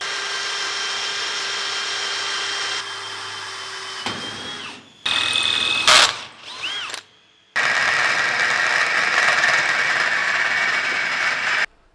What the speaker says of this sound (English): Got some holes drilled in my plate